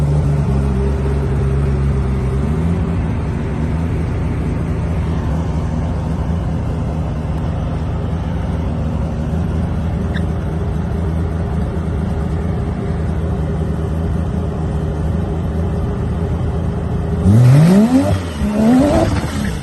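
Mazda RX7 with a three-rotor billet engine, DCT gearbox and Ford 9-inch differential on a drag strip run, a loud, steady droning rotary engine held for a long stretch, then a sharp surge of rising revs near the end.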